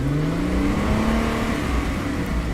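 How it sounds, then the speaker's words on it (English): A Ford Mustang engine revs with a steady, rising drone, loud and close, its pitch climbing slightly over a thick, noisy rumble. "The Mustang is revving up."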